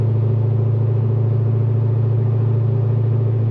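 Cammed, catless Corvette Z06 exhaust droning steadily at highway cruise around 75 mph and low RPM, a loud, continuous low-pitched hum with a constant rumble and no speech.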